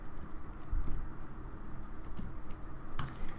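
Keys clatter on a computer keyboard in a steady run of close, light taps typing out a short phrase, alone with no talk.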